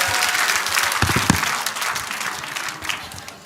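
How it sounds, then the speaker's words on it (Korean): Audience applause at a Korean indoor education meeting, a dense, loud wash of many hands clapping that swells briefly and then tapers off. "감사의 박수를 보내주시면 고맙겠습니다"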